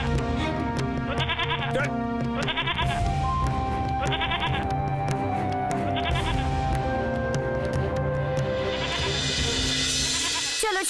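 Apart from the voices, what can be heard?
goat bleating in fear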